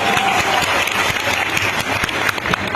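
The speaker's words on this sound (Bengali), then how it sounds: "তোমাদেরকে এবং তোমাদের বাবা মার জন্য একটা জোরে করতালি হবে এখানে।" Loud, sustained applause from a large crowd of students at an event in an industrial park, steady clapping filling the space without pause.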